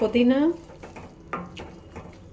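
A spoon stirs coriander, mint and tomato chutney in a pan, giving a few soft scraping strokes and light clinks after a brief voice at the start.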